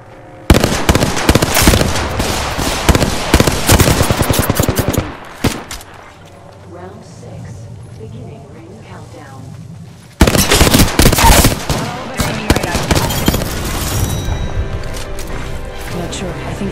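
Rapid automatic gunfire and sharp shot bursts in an Apex Legends duo match, loud and close, stopping for a few seconds before resuming with renewed volleys, with a player talking over the fighting.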